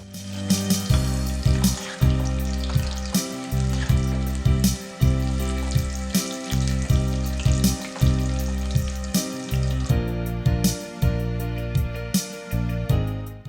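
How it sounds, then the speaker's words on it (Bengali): Already-fried chicken pieces go back into oil heated on high for a second fry, a loud continuous crackling sizzle, close up, with regular pulsing strokes running through it and no talk. "তারপর তেলটাকে হাই হিটে গরম করে ভেজে রাখা চিকেনগুলো আবার তেলের মধ্যে দিয়ে দেব।"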